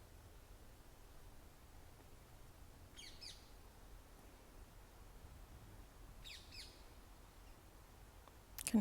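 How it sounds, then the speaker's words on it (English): Distant parakeet calls, a few brief chirping bursts, rise faintly above a quiet outdoor hiss in a peaceful churchyard cemetery in Carshalton. "Can hear the birds, the old parakeets in the background."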